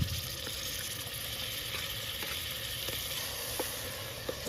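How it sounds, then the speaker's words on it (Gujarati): Spices sizzling steadily in hot oil in a pan while preparing a Gujarati dal puri meal, a continuous soft crackle with a few faint clicks, fairly quiet and close, no voices. "આ બધી વસ્તુ આપણે થોડી વાર માટે તેલમાં સળવા દઈશું."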